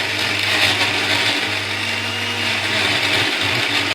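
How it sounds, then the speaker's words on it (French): A kitchen blender purées tomatoes, garlic, onion, shallots and ginger, its motor running as a loud, steady, unbroken whir with a low hum underneath, close and alone for the whole stretch before cutting off at the very end. "Là, je vais mixer mes tomates, l'ail, l'oignon, les échalotes."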